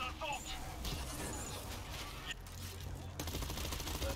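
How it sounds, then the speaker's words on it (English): Rapid machine pistol fire in the zombie shooter World War Z, dense bursts of shots running continuously under game noise and chatter. "I'm running around with a machine pistol"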